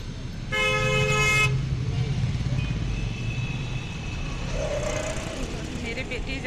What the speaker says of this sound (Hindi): अभी यहाँ पे गाड़ी बहुत ज़्यादा भीड़ हो रहे है।